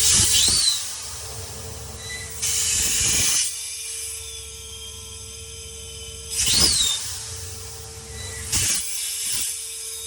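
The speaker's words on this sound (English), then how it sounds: "so if you hold this down, engage that compressor on." A mechanics truck's air compressor on a 2019 Peterbilt 337 runs with a steady mechanical hum, punctuated by loud bursts of hissing air that rise and fall several times, close by with no talking.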